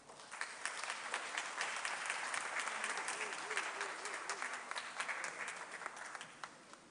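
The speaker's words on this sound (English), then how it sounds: "With a round of applause, ladies and gentlemen, let's welcome Professor Dora Francisca Edubuando." Audience applause at a book launch in Kumasi, a steady, dense round of clapping from a seated crowd that holds for the full stretch, with some voices mixed in.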